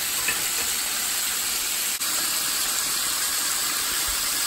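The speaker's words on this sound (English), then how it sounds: "now this chicken is frying really good" Steady, dense crackling sizzle of chicken frying crispy in hot grease, continuous and close, with no voices.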